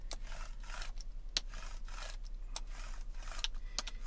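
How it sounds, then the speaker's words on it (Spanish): A Mini iRoller cleaning roller rolls back and forth over a screen, making faint, soft repeated rubbing and scraping passes with a few tiny clicks, close and quiet, with no talking. "uno simplemente pasa el rodillo un par de veces y queda perfectamente limpio"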